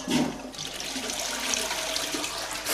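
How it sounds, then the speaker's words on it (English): A toilet flushes in a building under renovation, a steady broadband rush of water filling the whole stretch with no talk. "flushing toilet"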